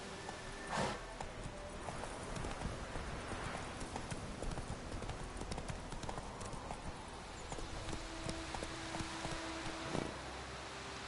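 Galloping hooves of Roach, Geralt's horse in The Witcher 3, pound out a steady, fast clip-clop rhythm across a long stretch, fairly close and clear, with faint rustling behind it.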